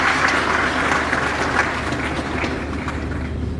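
A crowd applauds at a university graduation ceremony, dense clapping from many hands filling the room, strong at first and easing off slightly toward the end.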